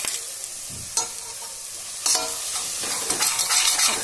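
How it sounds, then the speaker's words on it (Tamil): Onions sautéing in a pan for mutton biryani, with green chilies and ginger added, give a continuous close sizzle broken by a few scraping stirs and spoon knocks, with no talk. "வெங்காயம் நல்லா வதங்கட்டுங்க"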